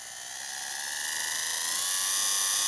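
Old 40-year-old DC model locomotive motor whining as the throttle rises, a high, steady electric hum that grows gradually louder over a few seconds, close and without talk.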